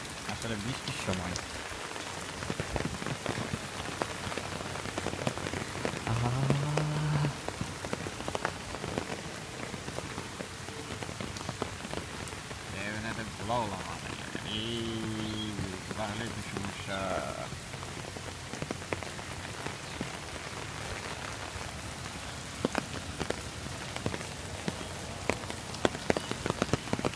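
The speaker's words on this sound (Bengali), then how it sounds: "সব সময় বৃষ্টি পড়তেছে" Steady rain falls on surfaces by a pond on a wet morning, a continuous soft patter heard alone throughout, with brief faint voices in the background.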